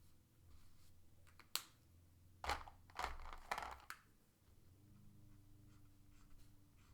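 Marker or pen drawing lines on the cardboard of a mac and cheese box, a few short scratchy strokes clustered in the middle, close and fairly quiet.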